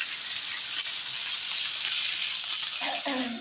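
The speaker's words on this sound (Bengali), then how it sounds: "এখানে মুড়ি ঘন্টার জন্য মাথাগুলো আমি ভাজতে দিয়ে দিয়েছি" Fish heads frying in hot oil for muri ghonto, a steady, close sizzle that holds through the whole stretch, with a few brief utensil clinks near the end.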